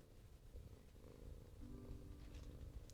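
A pet cat named Zelda purrs close by in a soft, steady low rumble that swells slightly in the middle, quiet and continuous with no talking.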